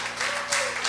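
A church congregation breaks into applause, a dense, loud wash of clapping hands that fills the moment.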